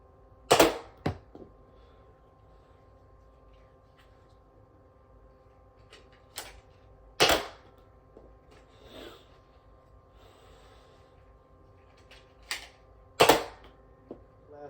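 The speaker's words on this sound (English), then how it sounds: "now we're going to fire 2 darts at once" An Adventure Force Cricket Pro toy blaster firing two darts at once gives sharp, isolated snapping pops, a couple of close pairs separated by long quiet pauses in a hushed room.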